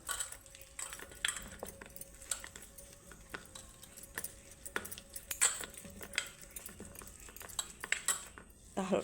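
Boiled potato mashed by hand in a bowl while cooking a chal kumro (ash gourd) recipe, giving a steady run of small clinks, taps and scrapes at close range, with no talking.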